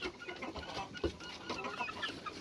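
A hen clucks during an oil-vaccine injection in a backyard coop, giving soft, close clucks and short squawks over a busy rustling background. One sharper call stands out near the middle.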